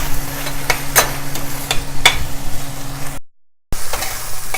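Turmeric and red chili masala stirred in a pan for chana masala, a close loud sizzle with several sharp spoon knocks against the pan, broken by a short gap of silence before the frying resumes.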